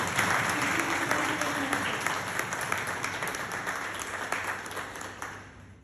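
Sustained audience applause fills the hall in welcome of a company CEO at a corporate event, dense steady clapping from a large crowd that gradually tapers off toward the end.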